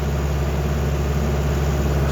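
Steady, loud rumble of a tractor engine working through a wet farm field, a continuous low throbbing drone with no change in pitch.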